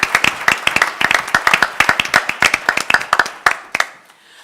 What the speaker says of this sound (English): let me ask you to join me in a round of one more applause for the sponsors